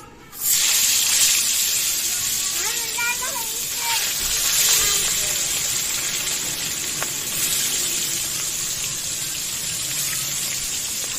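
Spice-coated pabda fish sizzle in very hot oil, a loud, steady hiss and crackle that starts abruptly and holds for several seconds.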